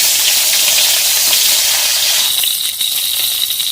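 Tomatoes added to hot oil in a village kitchen pan, hissing in a loud, dense sizzle that holds steady and shifts slightly in texture partway through, with no talking.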